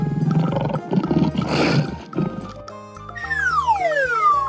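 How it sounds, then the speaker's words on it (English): A deep, rough lion roar rumbles over a steady children's learning music backing, then the music carries on alone and finishes with a sliding whistle. "Lion."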